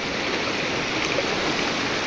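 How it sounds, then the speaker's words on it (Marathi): A small river stream rushing steadily nearby in hill country, a constant broadband wash of flowing water with no voices. "ही छोटीशी नदी आहे ती क्रॉस करून जायची"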